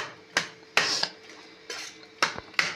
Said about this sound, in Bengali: আমি একটু হাতা দিয়ে নেড়ে নিচ্ছি